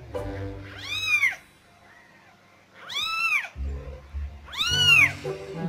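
Three loud, high kitten mews, evenly spaced with short pauses between them, close by.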